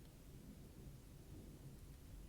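Thunder from a thunderstorm rumbles low and continuously, a distant, steady roll with a faint wash of rain and no speech.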